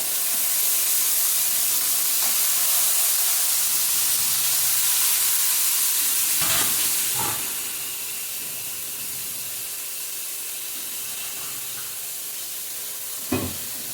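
Chopped pumpkin stems cooking with spices in a pan for a Bengali vegetarian dish, giving a steady hiss and sizzle that eases off midway, with a few sharp utensil clinks.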